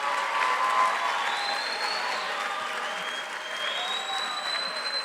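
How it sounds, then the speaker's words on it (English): A graduation ceremony audience stands and claps together in a sustained, even round of applause, with faint whistling tones over the crowd. "So you have to stand up and clap for your successes."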